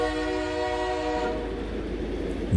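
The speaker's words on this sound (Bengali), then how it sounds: "হঠাৎ একটা ঝটকা মেরে ট্রেনটা আওয়াজ করে আস্তে আস্তে ছাড়ল।" A train lurches into motion with a sudden jolt, a loud sustained horn-like tonal blast for about a second giving way to rumbling, rattling carriage noise with no voices.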